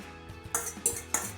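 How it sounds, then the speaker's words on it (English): A utensil scraping and clinking against a pan as omelette mix is stirred in olive oil, three or four quiet, close metallic strokes with no talking. "And stir in the omelette mix."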